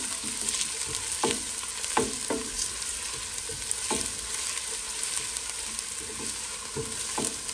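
Chopped onion sautéing in hot oil gives a steady, close sizzle, broken by sharp clicks and scrapes as it is stirred in the pan. No voices.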